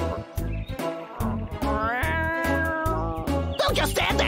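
Cartoon cat meowing repeatedly in drawn-out, wavering cries over loud rhythmic background music, close and prominent throughout.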